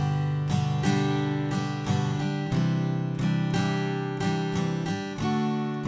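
An acoustic guitar strums the chord pattern of a song, using a tied beat at a slow, steady tempo. The strums ring full and close with no voice.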